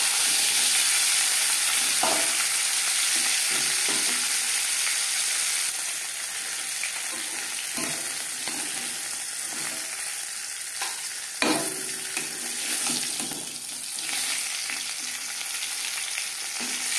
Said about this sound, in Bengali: মাছ ভেজে নেওয়ার পর